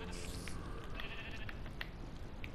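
Minecraft sheep bleat several times at a house in the survival video game, short nasal calls over a dense, noisy game background with no talking.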